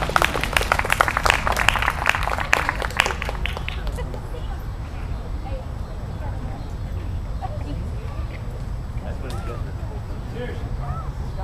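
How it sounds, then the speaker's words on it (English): A rally crowd in San Marcos, Texas claps loudly for the first few seconds, dense applause that fades into murmuring crowd chatter and background talk. "I was glad to join in the applause for"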